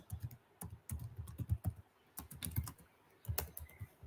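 Fingers typing on a newly changed computer keyboard, irregular bursts of close, crisp key clicks with brief pauses between runs, no voices heard.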